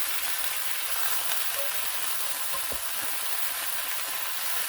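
Plantain leaves and a big chunk of garlic fry in a pan, giving a steady, even sizzle that stays moderately loud for the whole stretch with no voices.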